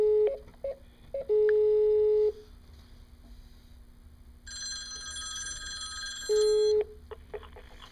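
An outgoing SIP video call from a 2N IP Helios door phone rings back with steady repeated electronic tones, loud and close, separated by a stretch of quieter, denser ringing tones.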